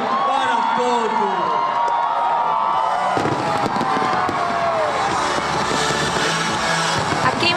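A beach crowd cheering and shouting loudly through a New Year countdown to 2020, with fireworks crackling and booming over them and the whole scene growing denser and louder after a few seconds.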